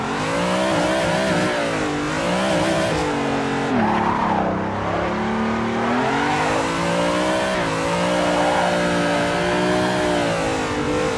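BMW M3 or Toyota AE86 drifting in the Assetto Corsa racing game: a loud, sustained engine drone that rises and falls with throttle, steady tire scrub running under it throughout, no talk.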